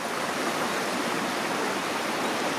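A steady, even rush of flowing river water fills the scene, constant and close, with no voices or other sounds.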